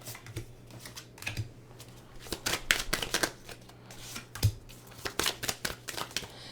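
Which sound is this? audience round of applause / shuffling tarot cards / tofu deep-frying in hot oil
shuffling tarot cards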